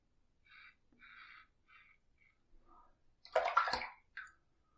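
An adjustable injector razor head is rinsed under running water in a few short, quiet splashes and trickles, followed by a slightly louder burst of water near the end.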